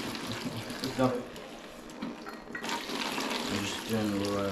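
Liquid is poured slowly from a pan in small amounts during an engine build, giving a soft, uneven trickling and splashing that continues under people talking nearby.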